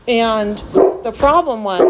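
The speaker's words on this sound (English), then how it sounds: "sorry, that's my dog." A pet dog barks and yips several times in short bursts close by, interrupting a person who is talking over it.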